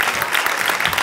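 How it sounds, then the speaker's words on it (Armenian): An audience breaks into a brief burst of dense, steady clapping that fills the whole moment. "եկեք Հայկին ծափարենք"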